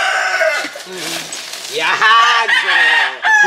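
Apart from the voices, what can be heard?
chickens clucking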